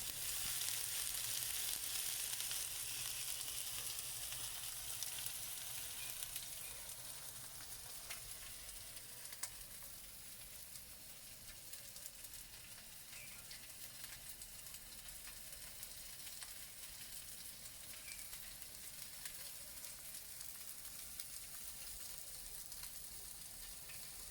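Soft, steady sizzling of onions frying in a pan, a continuous crackling hiss at low volume with no talking.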